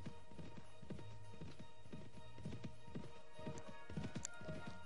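Horse hooves clip-clop in a steady, quick galloping rhythm while riding in the video game Mount and Blade Warband, moderately loud and continuous over a faint background hum.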